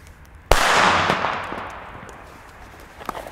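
A small Astronaut firecracker on a visco fuse bangs sharply once, then a long fizzing, hissing burn decays over a few seconds, with a faint crackle near the end.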